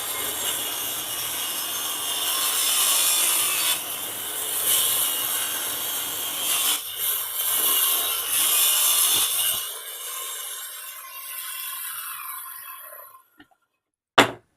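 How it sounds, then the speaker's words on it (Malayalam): A hand saw cuts a wooden plank for a bee box with steady, rasping strokes that run continuously and close up for about nine seconds, then thin out and stop, leaving near silence and a brief knock at the end. "പിന്നെ അടിയത്തുള്ള ബാറ് കട്ട് ചെയ്യാം."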